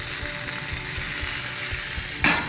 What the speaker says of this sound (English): One flip and let them keep cooking.